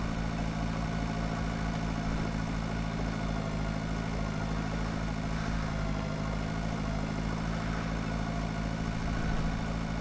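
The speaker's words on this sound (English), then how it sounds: "This tractor's really sort of feeling the weight as well." A tractor engine labours under a heavy load in the farming video game Pure Farming 2018, a steady low drone with a strong hum and a fast regular pulse that holds level throughout.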